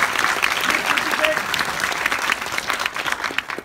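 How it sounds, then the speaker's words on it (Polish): Audience applause at a film premiere in a cinema, a dense run of clapping that stays steady for several seconds and then tapers off. "jeszcze raz brawa dla pana Ryszarda."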